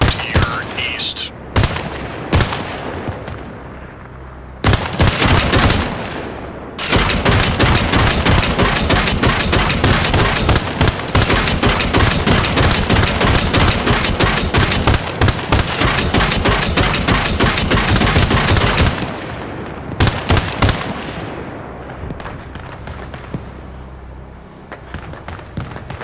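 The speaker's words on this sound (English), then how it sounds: "It looks like they were shooting in that field that we were taking contact from" Heavy, sustained automatic gunfire in Arma Reforger, loud and near, with sparse opening shots building into long dense bursts that stop abruptly, then scattered shots trailing off.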